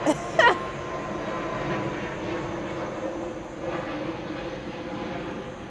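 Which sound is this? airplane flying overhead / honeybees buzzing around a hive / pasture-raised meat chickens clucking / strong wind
airplane flying overhead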